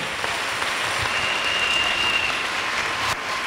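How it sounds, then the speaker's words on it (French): A church congregation applauds in sustained, dense clapping, steady and fairly close throughout, with no talk over it. "Acclamons pour le nom de Jésus-Christ."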